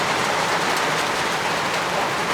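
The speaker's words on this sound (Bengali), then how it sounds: "ঝমঝম বৃষ্টি।" Heavy monsoon rain pours down over a river char, a dense, even hiss of drops with no pauses.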